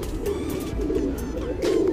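Tournament pigeon cooing softly in short repeated low calls, close by over a steady background murmur.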